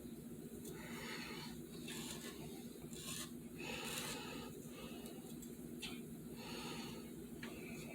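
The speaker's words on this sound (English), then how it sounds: "I'm just taking a spatula and just going along here and just putting the wood filler in there to cover up those lines" A spatula spreads wood filler over a 3D printed Alien head, producing close, repeated rasping scrapes in short strokes over a steady background hum.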